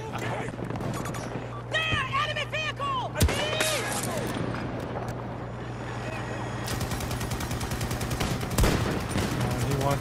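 Sniper rifle gunshots and surrounding battle fire in a shooter game, sharp cracks over a steady low hum and crackling gunfire, with voices talking and calling out throughout.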